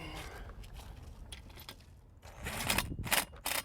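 Metal racking stanchion for a rooftop solar array being tightened by hand, about six inches off the roof: a string of short clinking, ratcheting metallic clicks and scrapes that grows busier and louder toward the end, with no talk.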